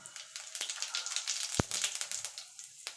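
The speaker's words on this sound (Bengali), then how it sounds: "ফোড়নটা একটুখানি ভাজা ভাজা করে নেবো" Dry red chillies and whole cumin seeds frying in hot oil in a heated kadai, a steady fine crackle and sizzle throughout, close up, with a couple of sharper pops and no talking.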